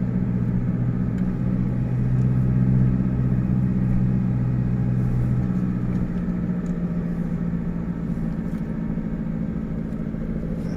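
A Toyota Vigo manual pickup truck drives and accelerates, heard from inside the cab as a steady, low engine drone and road rumble that eases slightly toward the end.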